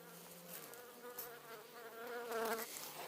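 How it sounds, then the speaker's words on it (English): An angry honeybee buzzes close around a beekeeper at the hives, a steady droning whine that wavers in pitch and grows louder as it circles near. "we have at least one angry bee at us here"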